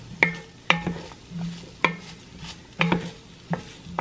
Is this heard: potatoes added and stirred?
yes